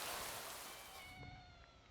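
A cat meows in a video game against a steady rain-like hiss, the drawn-out cry faint and close, fading as the noise drops away at the end.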